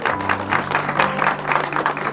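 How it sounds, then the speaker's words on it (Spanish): Applause from a congregation at a church graduation vigil held in honor of a soldier, a brief burst of rhythmic clapping by many hands, fairly loud and close, with a low murmur of voices underneath. "Palmas, palmas."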